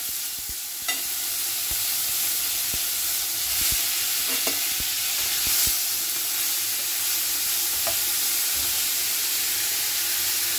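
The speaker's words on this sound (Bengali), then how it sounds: "ভেজে নেবো চিংড়ি মাছগুলো" Red prawns fry in hot oil, a loud steady hiss and sizzle lasting throughout, punctuated by occasional sharp spits and pops, with no talking.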